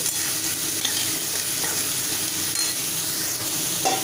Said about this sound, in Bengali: এবার ভালোভাবে একটুখানি ভাজা ভাজা